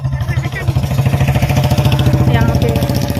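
A motorcycle engine idles nearby with a loud, even, rapid pulsing throb, while a voice talks over it.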